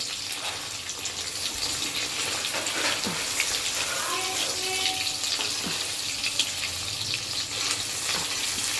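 Fish curry sizzles and fries in a pan with a constant bright hiss, broken by occasional scraping stirs and faint clinks, while a quiet voice murmurs in the background.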